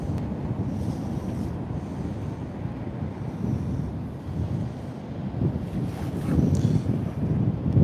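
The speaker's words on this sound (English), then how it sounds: "Up here we get these nasty winds." Strong gusting wind on a shore-fishing beach buffeting the microphone, a continuous loud rumbling roar with surf faintly beneath it, no voices.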